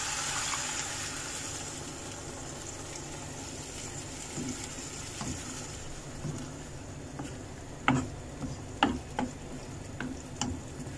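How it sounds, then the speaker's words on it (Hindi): Chicken stock is poured into a pan of frying vegetables for chicken veg Russian kebab, giving a steady low sizzle with liquid noise. Toward the end come several sharp clicks and taps from a utensil against the pan. "तो इसमें अब हम ऐड करेंगे ये चिकन का स्टॉक"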